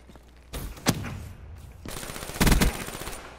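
Video game gunfire comes as a short burst of sharp gunshots, one strong crack followed by a louder cluster of rapid shots near the end, close and punchy with no voices.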